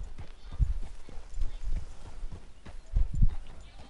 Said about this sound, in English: Oh no, I think that's Dutch's horse.